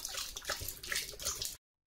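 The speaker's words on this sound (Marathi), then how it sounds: "लिओची पाणी प्यायची स्टाईल बघा." A German Shepherd laps water in quick, wet splashing bursts, close and fairly quiet, running steadily for about a second and a half before stopping.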